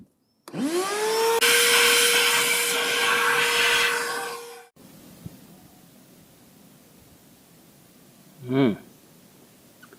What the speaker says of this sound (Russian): Будем пылесосом высасывать тут все.